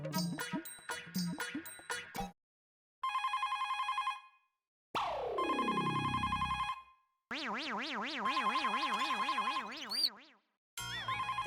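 A landline telephone rings in repeated electronic tone bursts with short gaps, loud and alone in a household scene from the Hindi sitcom Taarak Mehta Ka Ooltah Chashmah, mixed with a few brief musical chimes and a sliding boing effect.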